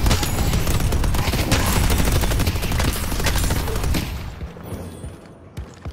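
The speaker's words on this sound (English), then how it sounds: "Think I'll let these things do the shooting for me." Automated turrets fire in the video game Deadlock, a loud rapid barrage of overlapping gunshots for about four seconds, then a few scattered fading shots.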